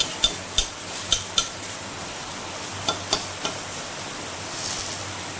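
Banana flower dry-frying in a pan without oil, stirred with a utensil: a run of light, clicking scrapes in two quick bursts over a soft, steady frying hiss.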